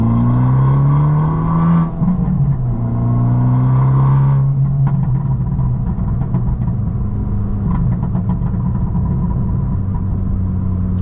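A Fiat 500 Abarth EsseEsse Stage 1 engine in sport mode revs and rumbles steadily, the pitch rising and falling with throttle blips, close and loud throughout.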